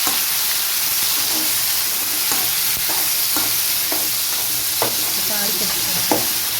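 Onion and garlic fry in a pan as the base for a traditional fish curry, a loud, continuous close-up sizzle broken by occasional scraping strokes of a stirring spoon, with no voices.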